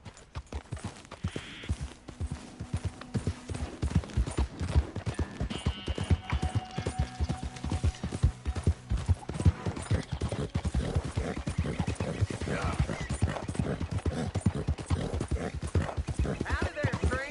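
Horse hooves clip-clop steadily and continuously through a Red Dead Redemption 2 ride, a near rhythmic trot with occasional whinnies, while characters talk over it.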